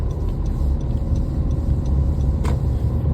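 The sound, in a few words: car passing by on the road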